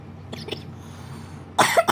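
A couple of soft, muffled coughs near the start, then a sharper, louder cough burst close by at the end.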